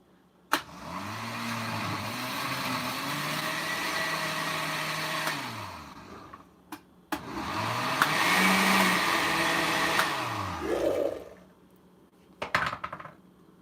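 A blender whirs through a habanero ketchup mixture in two long runs, its motor pitch sliding up and down. Each run stops abruptly, and clinks and knocks of kitchenware follow. No one speaks.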